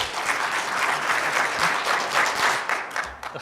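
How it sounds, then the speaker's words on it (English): Convention audience at a PAX East 2018 panel clapping in unison on cue, a dense burst of many hands building into steady rhythmic applause throughout. "Clap your hands 10 times."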